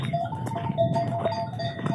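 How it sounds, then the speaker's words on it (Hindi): Goats and sheep at a natural rain-fed desert pond, with bleating calls scattered over a steady outdoor background of shuffling and movement, fairly close and continuous. "इस वक्त यहाँ जानवर पानी पी रहे"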